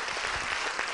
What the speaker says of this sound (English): Let's give her a warm applause for her efforts tonight